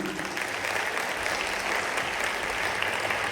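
An audience claps loudly and steadily at a Jain Panch Kalyanak Mahotsav stage performance of a royal court scene, a dense unbroken wash of applause filling the hall.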